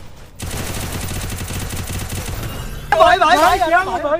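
Rapid, steady bursts of gunfire from the video game Garena Free Fire, played in a solo-versus-squad match, rattle continuously for a few seconds before a voice takes over and speaks over the game sounds.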